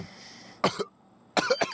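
Two short, loud coughing bursts a moment apart, close to the microphone, during a casual The Sims 3 gameplay session at home, with no talk over them.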